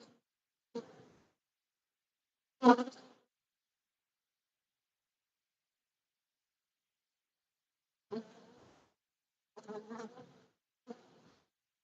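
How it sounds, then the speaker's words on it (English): Honey bees fly out from an opened hive frame after colony mixing, several short buzzing passes near the microphone with quiet gaps between them and a cluster of buzzes toward the end. "Can you see all the bees that are popping up?"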